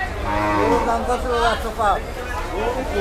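A cow moos repeatedly at a busy Gabtoli cattle market in Dhaka ahead of Qurbani, loud and close with drawn-out calls, while people talk and bargain nearby amid crowd babble.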